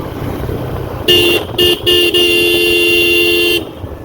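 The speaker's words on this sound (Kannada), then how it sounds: "ನಮ್ಮದು ಹಾರ್ನು ಗೊತ್ತಲ್ಲ full powerful one of the powerful horn ಹಾಕ್ತೇನೆ ಅದಕ್ಕೆ ಸೌಂಡ್ ಒಳ್ಳೆ ಕೇಳ್ತದೆ" A powerful car horn on a Maruti Swift sounds on the road in a few loud blasts, two short toots followed by a long sustained honk, over steady traffic and engine noise.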